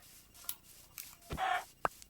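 Chicken clucking in a survival video game, a few short clucks and one louder squawk near the end, fairly faint over quiet background.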